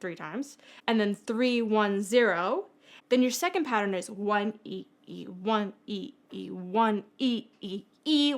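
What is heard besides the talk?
No distinct noise like a dog, phone or traffic.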